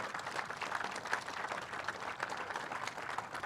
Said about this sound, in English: I want to give a round of applause to Jane again.